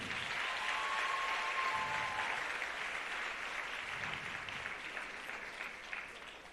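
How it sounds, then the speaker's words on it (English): An audience at the Dr. Barry Wint Memorial Scholarship Awards applauds the physical therapy students. The clapping is sustained and even, with a roomy, crowded sound that eases slightly toward the end. "As well, keep the applause coming."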